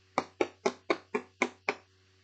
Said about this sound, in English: But then there came a loud knock on the door